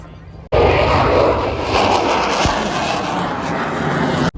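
Loud airplane engines roar overhead during aerobatics at the Bahrain International Airshow 2024, a sustained, powerful drone that swells slightly and then cuts off abruptly.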